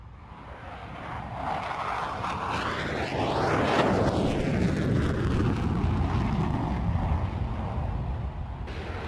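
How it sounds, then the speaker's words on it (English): A French Air Force Mirage 2000D jet at full engine power makes a loud roaring flyby that builds toward a peak, then sweeps past with a falling whine as it recedes. "The Mirage 2000 Delta is fitted with an engine which on full power has a thrust of over 10 tons"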